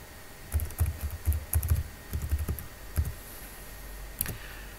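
Password being typed on a computer keyboard, a close run of quick key clicks in uneven bursts, pausing briefly before a few more taps and a final keystroke, with no talking.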